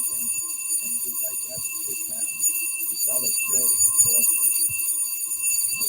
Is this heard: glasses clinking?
no